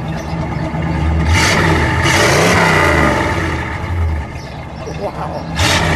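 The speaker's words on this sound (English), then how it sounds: "give me that rev." A 1957 Dodge Coronet convertible engine revs up in several throaty bursts, close and loud, rising and falling over a steady idle, with people talking over it.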